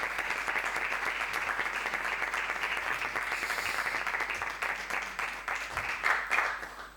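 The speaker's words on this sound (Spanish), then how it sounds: "por favor, un aplauso" An audience at an emotional wellbeing conference applauds as the speaker comes on stage, steady crowd clapping heard at moderate distance for several seconds.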